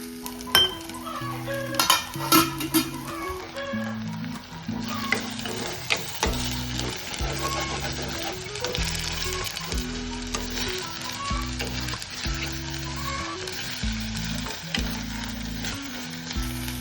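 Crushed shallots, ginger, fresh curry leaves and green chilies sautéing in oil for a Kochi-style fish dish, a steady sizzle under repeated scraping and clinking of a spoon against the pan, close and continuous.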